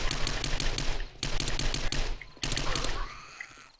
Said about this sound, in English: I did not, sound check this SMG.